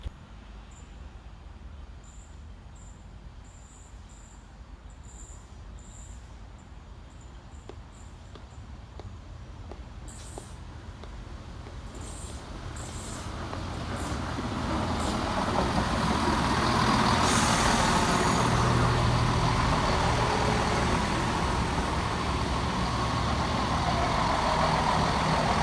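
Northern Class 170 unit 170-457 on a York to Leeds service pulls into Weeton station, its low rumble swelling from quiet outdoor ambience into a loud, steady roar over the last ten seconds.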